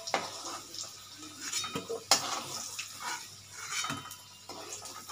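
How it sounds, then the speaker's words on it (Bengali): Fried potatoes are scooped from a pan into a bowl, making quiet metallic clinks and scrapes of a utensil against cookware, with a few sharper knocks spaced irregularly over a soft kitchen background. "এবার আমি আলুগুলো তুলে নিচ্ছি একটা পাত্রের মধ্যে।"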